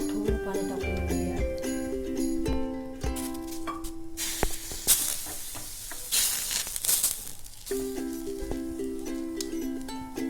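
Water sprinkled onto a rice bhakri on a hot griddle sets off a loud burst of steaming hiss and sizzle, rising suddenly and lasting several seconds over steady background tones.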